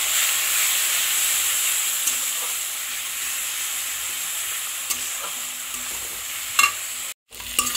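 Ground spices with coriander and cumin powder stir-fried in oil in a pan for an egg omelette curry, giving a steady close sizzle with a few louder scrapes and clinks near the end.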